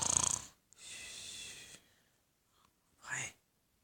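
A child imitates snoring in a playful game, giving two breathy, rasping snore sounds separated by a quiet pause, close and fairly soft, with a faint whisper-like sound between them.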